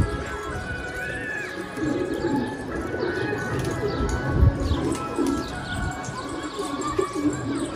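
Pigeons returning to their nest in the evening, soft repeated cooing and scattered chirps over a low outdoor background, birds calling near and far throughout.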